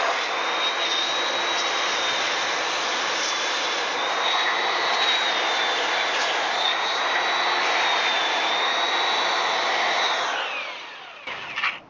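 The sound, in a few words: belt sander smoothing mortar on pavers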